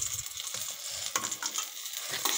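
A bread sandwich toasts in a kadai over low heat, giving a soft, steady sizzle. Faint scraping and stirring taps come through now and then, with no talking.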